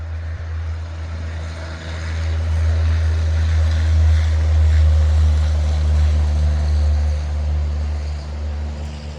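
Steady engine and road rumble from a car cruising along Highway 299 near Round Mountain and Montgomery Creek, a continuous loud low drone with constant tire and wind noise throughout.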